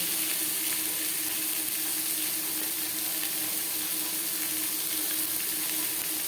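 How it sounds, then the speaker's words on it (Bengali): Boiled potatoes fry in a pan with salt and turmeric, giving a continuous, dense hiss that holds level throughout without pause. "পরিমাণ মতো লবণ ও হলুদ দিয়ে আলু ভেজে নেব"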